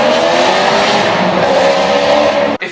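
A Maserati engine with a cross-plane crank revs hard in a loud, continuous howl that holds steady before cutting off abruptly near the end.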